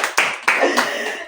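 Three sharp bursts of clapping from a group of children and adults during a Children's Day game show, close and loud, each burst decaying quickly.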